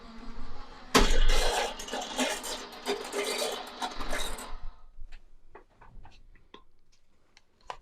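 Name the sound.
die cutting machine being cranked through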